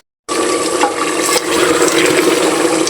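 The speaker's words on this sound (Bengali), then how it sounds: "এই যে এখন আমি ঝোল দিয়ে নেব" Broth poured into mutton curry in a pressure cooker gives a steady, close splashing rush of liquid that starts abruptly and runs on without a break.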